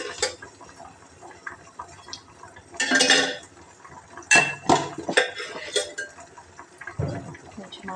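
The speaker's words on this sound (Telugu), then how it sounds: "నెక్స్ట్ మళ్ళీ ఇంకొక బాండి పెట్టుకొని కొంచెం ఆయిల్ వేసుకోవాలి." A karahi is set on the stove and a little oil goes in: close clanks and scrapes of metal cookware, a brief pouring rush, then several sharp knocks and clinks at varying loudness.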